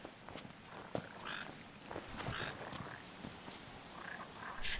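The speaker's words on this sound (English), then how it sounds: "I heard it croaking." Frog in Final Fantasy XV croaking in short, raspy bursts a few times over quiet outdoor ambience, faint and somewhat distant, with a few soft footsteps.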